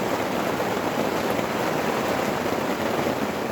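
Heavy rain drums on a tarp during a storm outdoors, a dense, steady hiss of constant patter with no break and no voices.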